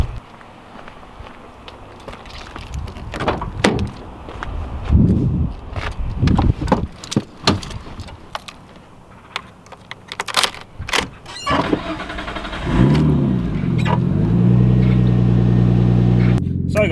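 A car's engine starts and idles steadily after a door and footstep sounds, with scattered clunks and thumps before it, fairly close and loud.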